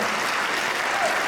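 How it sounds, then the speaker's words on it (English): An audience at a panel discussion applauds a panelist, a songwriter, with a dense, steady wash of clapping that stays loud and even throughout. "Let's give her a round of applause"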